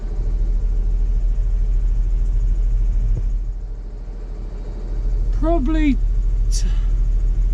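A Fendt tractor engine drones in a steady, close low rumble while driving, with someone talking over it and a brief whistling sound near the end.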